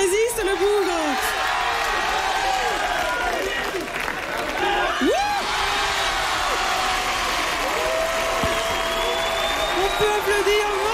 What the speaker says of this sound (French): Applaudir Morgane